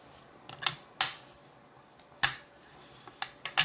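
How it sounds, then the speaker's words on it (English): Paper envelope sides are folded down by hand, producing several crisp, sharp crackles and creases at irregular intervals, close up and fairly loud, with no one talking. "you want to just go from this corner down and fold it down"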